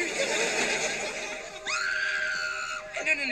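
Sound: screaming when the lights go off

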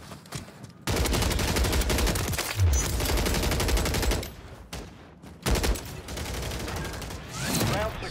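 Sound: rapid gunfire in a video game

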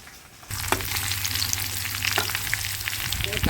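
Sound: onions frying in a pan

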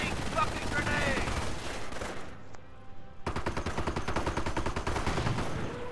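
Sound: machine gun fire in the video game Company of Heroes

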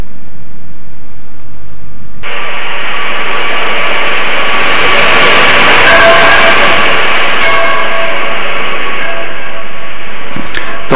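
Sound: steam locomotive in China

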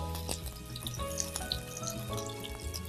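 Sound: eggs and plantains frying in a pan

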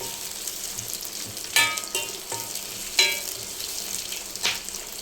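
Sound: green chillies frying in oil

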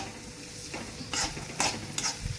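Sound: onion frying in hot oil while being stirred

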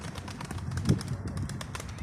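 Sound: caged birds, likely pigeons, released and flying out

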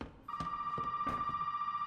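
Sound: telephone ringing in video game Resident Evil 7

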